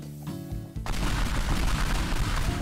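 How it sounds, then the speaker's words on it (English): Pipe bombs blow up in Teardown with a sudden heavy blast that leads into a dense, loud roar of rumbling debris and crackling that continues to the end. "How many pipe bombs can I feasibly throw?"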